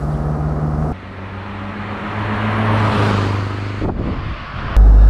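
A 1955 Mercedes 190 SL engine revving up hard in third gear, a loud close rising whine and roar that climbs steadily, dips briefly and swells again, with no talking.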